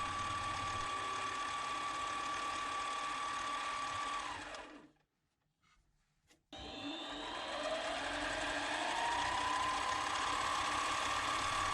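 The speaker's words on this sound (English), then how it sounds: "Here I'm smoothing out the CA glue with a piece of emery cloth" Emery cloth spun against CA glue coating a shamrock ring on a lathe-like tool gives a steady mechanical whir with a fine abrasive hiss; it stops for about two seconds, then resumes.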